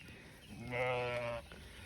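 A single sheep bleats once, a short wavering cry, fairly distant over quiet outdoor background.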